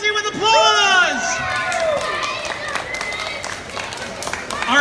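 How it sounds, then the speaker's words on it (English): Crowd cheering and whooping at a live magic show at a convention, with broadband applause and clapping beginning softly and building through the clip, a few excited voices rising above the noise. "Everybody else go crazy with applause."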